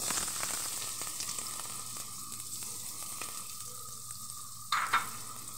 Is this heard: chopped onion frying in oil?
yes